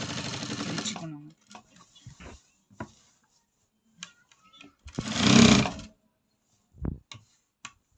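A sewing machine stitches fabric in short bursts, with a longer run of close whirring near the middle and a few quiet gaps between, while a person speaks at times.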